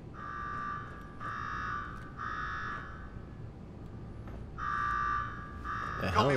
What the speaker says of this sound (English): Now go shut off that damn alarm